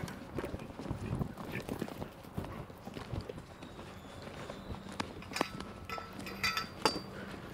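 Horse hooves clip-clop steadily across the ground during a walk jumping exercise in a riding session, moderately close, with occasional metallic clinks and a voice speaking now and then in the background.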